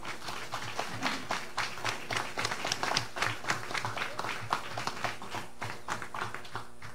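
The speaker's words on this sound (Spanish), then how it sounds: "queremos recibir con fuertes aplausos al amigo Salvaplaneta Huayo." Steady applause from a crowd at a children's book presentation, many hands clapping continuously with a light, even patter.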